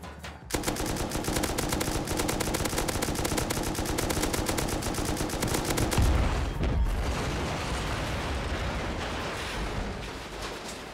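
Gunfire in the video game Rust aimed at a helicopter's rotors and body: rapid sustained automatic shots in a dense, loud stream, with a heavier boom near the middle before the firing thins out.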